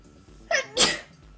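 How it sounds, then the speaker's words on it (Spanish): A person with allergies sneezing indoors: a short sharp intake followed by an explosive burst, close and moderately loud, alone with no talk. "¿Podés estornudar como corresponde?"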